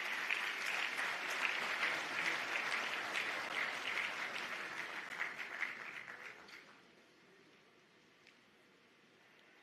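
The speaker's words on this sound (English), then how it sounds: "So give a warm round of applause as I welcome the remarks of the Governor of the Central Bank of Nigeria" Audience applause at the Afreximbank annual meetings in Abuja, Nigeria, welcoming the Central Bank of Nigeria governor: a steady, fairly distant roar of many hands clapping that fades away after about seven seconds into quiet room tone.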